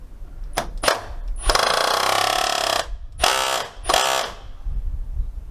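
A Milwaukee hydraulic impact driver running in reverse, heard as several loud mechanical hammering bursts: two brief hits, a long sustained rattling run, then two more shorter bursts close to the listener.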